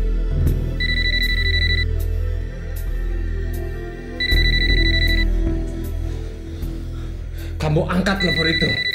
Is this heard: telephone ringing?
yes